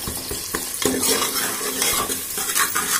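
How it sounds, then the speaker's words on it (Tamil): Chopped onions sautéing in a pan as the base for a chicken curry: a steady close sizzle runs throughout, broken by repeated scraping and clinking as a spoon stirs them against the pan, with no talking. "இப்போ நான் இப்படி கொஞ்சம் வெங்காயம் வதக்கிக்கினேன்"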